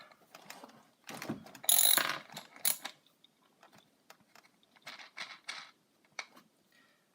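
Nuts are removed from a JLB Cheetah RC car wheel with a ratcheting tool, a quick burst of close clicks followed by sparse, quieter clicks and handling taps.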